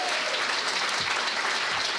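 Audience applause for the cast at a comedy show, a steady dense wash of many hands clapping that fills the room evenly from start to finish, with no voices over it.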